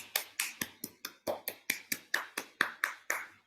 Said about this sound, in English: Let's give a round of applause for you all